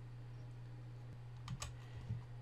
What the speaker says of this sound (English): type 1 foot and press enter